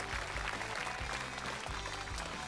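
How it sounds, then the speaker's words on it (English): Virtual gallery applause from the crowd at a golf course in Everybody's Golf (2017) on PS4, a steady broad clapping wash filling the whole stretch with no talk over it. "The crowd went wild, as they say."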